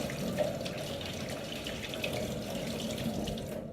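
Warm tap water runs steadily into a sink while hands are washed with Chlorhex, a close continuous splashing stream with slight variations and no talking.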